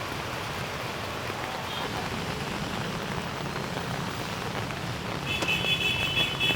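Heavy tropical downpour on a Ho Chi Minh City street, a dense, steady hiss of rain drumming on surfaces close by, with a faint high tone and a slight swell near the end, and no voices.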